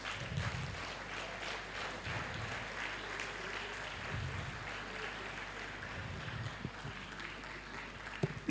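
A conference audience claps steadily and fairly faintly, as if from across a hall, welcoming a speaker. The applause is continuous with no talking over it.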